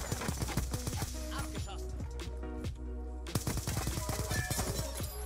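Rapid bursts of SCAR rifle fire in Call of Duty Black Ops 2 crackle in quick repeated volleys, pausing briefly mid-clip before resuming, with someone talking over the shots.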